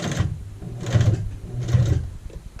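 Sewing machine stitching an apron hem, running in three short bursts of a low, whirring motor hum with rapid needle clatter as it stitches forward and back, close by and alone.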